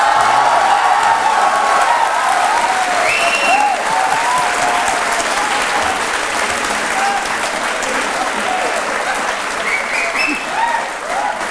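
Loud, sustained applause from a television studio audience on a courtroom-style interview show, dense clapping with some crowd noise that holds steady throughout and eases slightly toward the end.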